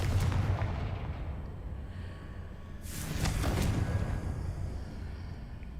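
A Confringo fire spell blasts in Hogwarts Legacy, a loud booming burst that swells with a crackling rush around the middle, over continuous rumbling background noise with no talk.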